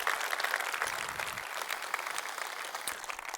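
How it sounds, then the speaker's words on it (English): An audience at a Devoxx Belgium tech conference gives a round of applause: continuous dense clapping throughout, fairly distant and even in level, with no talking over it. "So let's give it a round of applause for them as well, right?"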